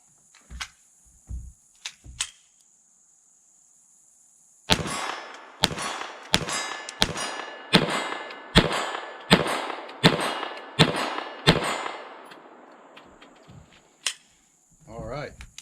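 A .22 LR FN 502 tactical pistol fires a rapid string of about eleven shots at a 25-yard steel plate outdoors, each sharp crack followed by a metallic ping, with a few scattered shots before and after.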